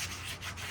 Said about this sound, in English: So I just have a little piece of 80 grit sandpaper. I'm just giving the edge a little bit of a round over.